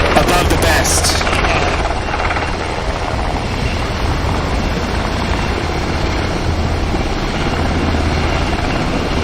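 A military assault helicopter from an assault helicopter battalion flies at the Hyundai Air & Sea Show, its steady rotor thrum and turbine roar loud and continuous, with faint voices in the background.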